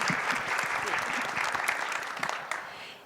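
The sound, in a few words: applause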